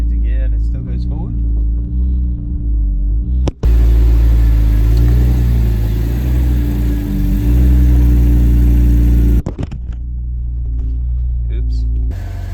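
An old BMW M3 rolls forward in gear, its engine rumbling low and steady for about twelve seconds, briefly cut by a sharp break midway, with voices talking over it.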